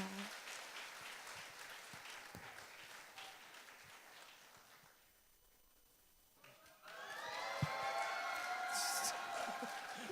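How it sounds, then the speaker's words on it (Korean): A church congregation applauds to encourage the youth group during a family-themed service. Dense clapping fills the opening seconds, dips briefly, then swells again louder and fuller toward the end. "박수로 격려해 주시고 많은 기도 부탁드립니다."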